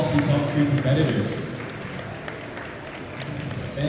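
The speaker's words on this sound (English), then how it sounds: "A round of applause." Crowd applause at the Singapore National Coffee Championship finals, a moderate clatter of clapping mixed with a host talking over it and some murmuring, easing slightly toward the middle before swelling again.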